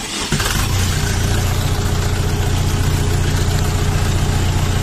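A 40 hp Dongfeng or Lovol mini tractor diesel engine catches after a brief crank, then settles into a loud, steady, close idle with a deep rumble throughout.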